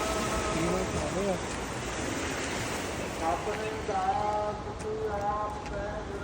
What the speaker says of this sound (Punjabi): ਇਹ ਤੁਸੀਂ ਦੇਖ ਸਕਦੇ ਹੋ ਕਿਸ ਤਰ੍ਹਾਂ ਪਾਣੀ ਦਾ ਵਹਾਅ